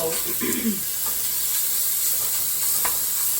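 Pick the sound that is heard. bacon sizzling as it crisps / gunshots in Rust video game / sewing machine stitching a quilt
bacon sizzling as it crisps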